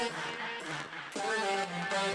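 A vocal run through a plugin chain with random distortion, the singing buried under gritty, crackling broadband fuzz that cuts out briefly and then returns louder and harsher for the last second.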